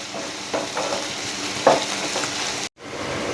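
Beetroot pieces fry with dried red chillies in a pan, giving a continuous close sizzle punctuated by a few scraping stirs and one brief pause.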